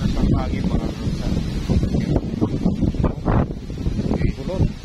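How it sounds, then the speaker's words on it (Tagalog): Strong wind buffets the microphone outdoors, gusting in rough bursts throughout with a voice speaking underneath. "napakalakas ng hangin"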